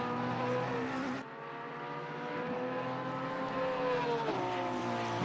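Race car engines, including a Porsche, in an endurance race at Zolder, heard as a steady sustained whine from more than one car with shifting pitch and one gear change near the end.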